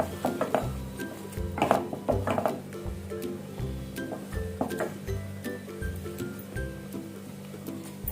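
A spoon scrapes and knocks around a pan while stirring a prawn fry, in uneven strokes, with occasional louder clanks over a low steady background hum.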